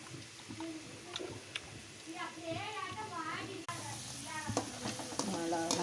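Food marinated with chili and salt fries in oil with a soft, continuous sizzle and occasional stirring clicks, while people talk over it close by.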